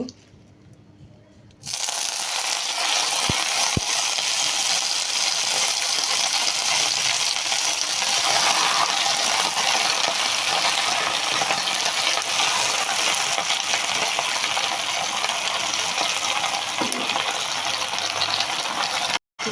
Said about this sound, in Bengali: শুকনো মরিচ এবং রসুনের কোয়াগুলি ভেজে নিয়েছি তো এখন এর মধ্যে টক পাতাগুলি দিয়ে দিব